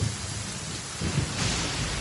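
Rain and thunder in Genshin Impact: steady dense rainfall hiss with a low rumbling swell of thunder, continuous and fairly loud with no voices.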